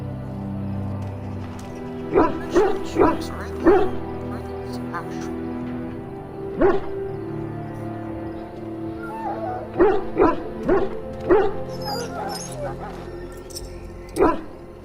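A dog in the Dragon Age: Origins video game gives a string of short barks and yips in clusters, with soft whimpers between, over a low ambient game soundtrack and a speaking voice.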